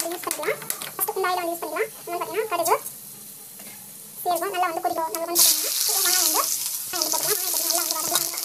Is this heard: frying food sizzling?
yes